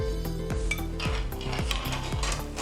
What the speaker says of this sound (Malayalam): ഇത് നന്നായി ഒന്ന് മിക്സ് ചെയ്ത് നമുക്ക് അടച്ചു വയ്ക്കാം.